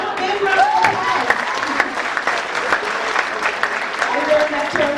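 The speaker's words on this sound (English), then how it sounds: "Give them a big round of applause." Crowd applause at a high school graduation ceremony for the St Maarten Academy class of 2015, loud and continuous clapping with scattered cheers and voices mixed in.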